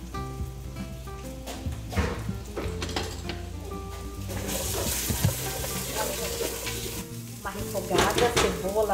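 Garlic and onion sizzle steadily in hot olive oil in a pan, with occasional stirring and scraping of a utensil, close and moderately quiet.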